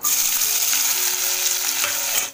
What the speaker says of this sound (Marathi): तेल झालं आहे गरम. त्यात आता ही मिरची, आता हिरवी मिरची नाही म्हणणार मी, लाल मिरची आणि कांदा.